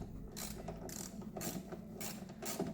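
A ratchet socket wrench with a small extension is worked on a Yamaha XJ 600 motorcycle during an oil change and routine service. A close, clicking ratchet sounds in about four short bursts, with pauses in between.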